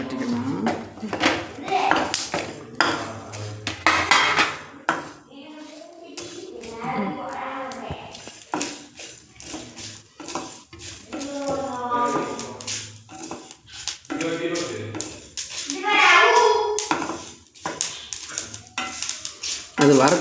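Onions being lightly roasted in a pan are stirred with repeated metallic scrapes and clinks over a low sizzle, while a person talks throughout.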